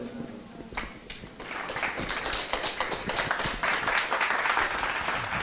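An audience at a talk show session breaks into applause after a few scattered claps, building into dense, sustained clapping that carries on to the end, with voices mixed in.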